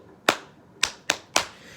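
Four sharp, close hand claps in an uneven rhythm, two spaced apart and then two quicker ones, set against quiet.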